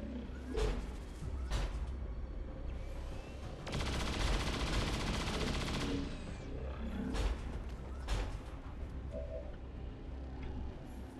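XCOM 2 gunfire in combat against a mech, with several sharp shots and one sustained burst of rapid automatic fire, mixed with game effects at moderate loudness.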